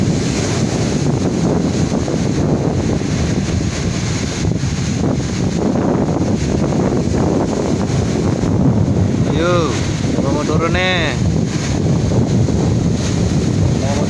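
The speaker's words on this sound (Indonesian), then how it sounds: "Uh, tingginya ombaknya di sana guys. Tinggi banget." Big ocean waves crash continuously under strong, gusting wind that buffets the microphone, loud and close throughout, with a few short voice-like calls near the end.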